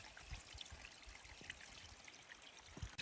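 Water trickling steadily from a spring at a shrine in Kastamonu, a faint, continuous gentle flow with small splashes and no talking.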